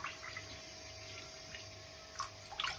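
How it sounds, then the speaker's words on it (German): Water trickles from a spoon into a homemade olive oil salad dressing, a faint steady pour in a kitchen with a few small clinks near the end. "3 Esslöffel Wasser mit rein, ne, damit das Ganze ein bisschen verdünnt ist"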